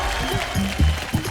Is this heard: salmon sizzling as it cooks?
no